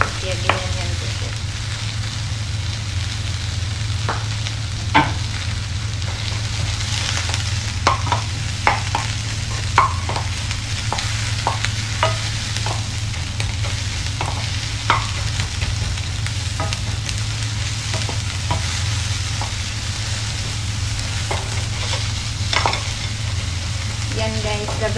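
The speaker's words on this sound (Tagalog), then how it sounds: "Para lang guys magisa ang ating onion." Chopped onion sizzles and fries steadily in organic olive oil in a pan, with scattered stirring clicks and scrapes from a utensil over the continuous frying hiss.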